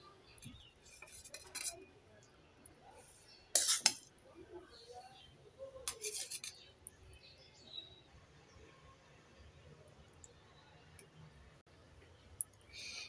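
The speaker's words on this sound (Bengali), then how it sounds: "এবার প্লেটের মধ্যে বাঁধাকপির ঘন্টটাকে পরিবেশন করে দেখাচ্ছি" Cabbage ghonto being served onto a plate, with a few bright metallic clinks of spoon against dish and some soft scraping, scattered and close amid quiet background.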